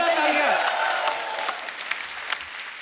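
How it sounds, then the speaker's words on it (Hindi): Loud audience applause on a Hindi television comedy show's Valentine's Day episode, a dense burst of clapping that starts strong and gradually thins out, with a voice over it at first. "रतन जी के लिए जोरदार तालियां।"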